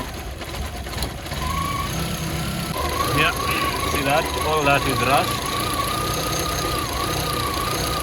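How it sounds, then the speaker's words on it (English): A Peugeot 405 engine running roughly while idling during a car restoration, a steady close mechanical drone with uneven knocking throughout, as someone talks over it. "making sure the engine is running smoother than this"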